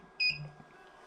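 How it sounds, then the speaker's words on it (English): A Hikvision CCTV network video recorder gives one short, high electronic beep as it switches on, heard close in a quiet room with faint hum afterward. "Now you heard a beep there, don't worry about it, that's just it sort of engaging"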